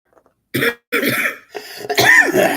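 A few loud, harsh coughs close up, coming in separate bursts with short pauses between them.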